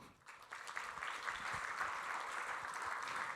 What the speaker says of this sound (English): Please give a round of applause to Andrew.